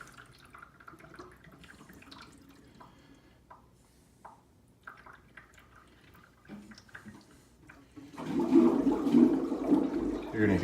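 Water rushes and gurgles as an Aquatop aquarium canister filter fills, with quiet intermittent trickles and drips at first, then a loud, steady surge of bubbling flow through the output.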